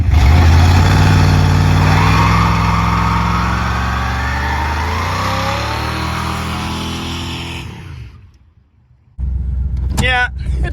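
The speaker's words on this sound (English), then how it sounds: "What a happy engine." 1972 Plymouth Satellite muscle car engine revving loud and close, its pitch sweeping up and settling back before cutting out, then a short sharp burst of noise with voices underneath.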